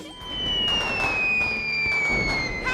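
A cartoon Lakshmi bomb firecracker goes off during Diwali, a rising whistle-like fizz followed by loud crackling bursts and bangs over about three seconds.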